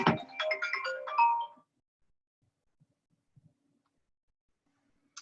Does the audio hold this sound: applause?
no